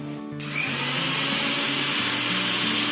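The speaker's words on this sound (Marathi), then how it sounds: "भांडा ठेवून तू असंच मिक्सर चालू कर" A household electric mixer grinder with an empty jar fitted switches on after a brief quiet moment, then whirs steadily and loudly with a constant motor drone for the rest of the clip, without voices.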